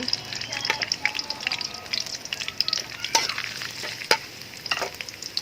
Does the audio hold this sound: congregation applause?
no